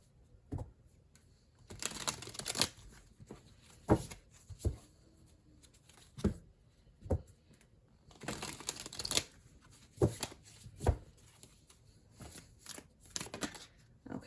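Tarot oracle cards being shuffled in two long riffling bursts, with sharp card taps and flicks scattered between them, close and fairly quiet.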